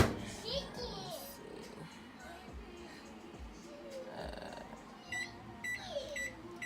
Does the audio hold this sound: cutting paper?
no